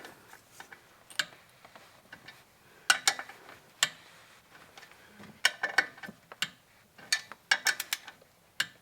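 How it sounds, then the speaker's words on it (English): A socket ratchet clicks on the clutch bolts of a Volkswagen Vanagon as they are torqued down, with short irregular bursts of sharp close metallic ticks separated by brief pauses. "it's tight, and then we'll torque them down"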